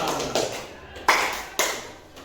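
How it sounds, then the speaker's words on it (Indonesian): A classroom group claps in unison for a student group, three sharp, separate claps spaced about half a second apart, each ringing briefly before fading. "Beri tepuk tangan untuk kelompok auditori."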